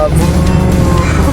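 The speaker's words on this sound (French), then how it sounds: "Elle a dépassé un giga camion." Car overtaking a huge truck on a road in the Ardèche, a loud continuous engine and road roar with tire noise surging past close by, with people talking under it.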